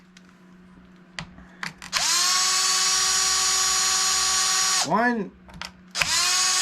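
Power drill unscrewing screws on a Traxxas MAXX RC truck, a loud high whine held for several seconds, a quick pitch dip and rise, then a fresh burst starting, with a voice counting briefly before.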